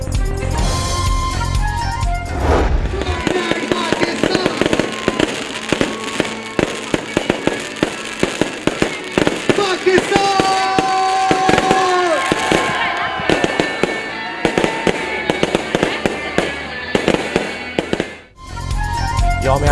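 Fireworks over Pakistani cities at midnight for Independence Day: a dense, continuous barrage of crackling bursts and sharp bangs, loud and close, with a few whistling rockets and faint voices underneath.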